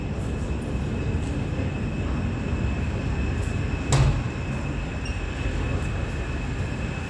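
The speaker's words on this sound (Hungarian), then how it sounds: "Ma hármas metrózni fogunk a Calvin tér és a Népliget között." A Budapest M3 metro train between Kálvin tér and Népliget runs with a steady, close rumble, broken midway by a short sharp clank or squeal.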